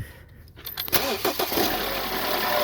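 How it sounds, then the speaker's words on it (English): A 2016 BMW 528i's starter cranks briefly, then the engine catches and settles into a steady idle, heard up close in a garage. "go in there and just tap the starter. Basically turn it on, turn it off kind of thing."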